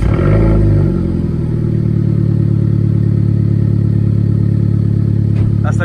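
A Renault Clio 4 RS Trophy fitted with a full exhaust cold-starts with a loud, deep burst of revs, then settles into a steady, booming high idle that drones on close by for several seconds.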